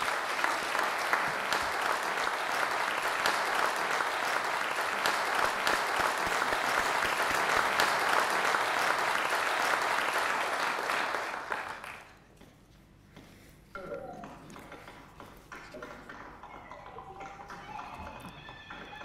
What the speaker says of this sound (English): There's the clapping, Premier, from the house virtually.